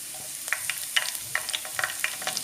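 Whole cinnamon sticks and green cardamom pods frying in hot oil for an Indian chicken do pyaza, giving a light steady sizzle dotted with sharp crackles and pops, close and moderately quiet, with no talking.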